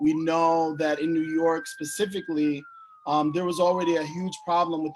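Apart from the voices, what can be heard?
No distinct noise like a dog, phone or traffic.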